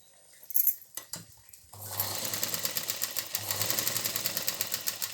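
A sewing machine stitches a strip onto a petticoat. A few clicks and knocks come first, then a close, steady rapid whirring run of stitching with a regular mechanical pulse.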